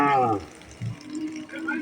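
A brief low moo from native cattle at the Valliyoor cow market in Tirunelveli rises against a busy outdoor background, partly overlapped by nearby voices.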